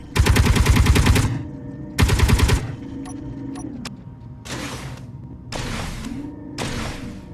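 Turret weapon firing in the Space Engineers video game: two loud rapid-fire bursts of about half a second each, followed by quieter whooshing bursts and faint mechanical clicks.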